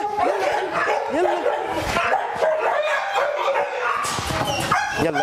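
A Baladi dog named Nutella barks and yips repeatedly at close range, short sharp calls coming in an uneven rhythm, with a few whimpery notes mixed in.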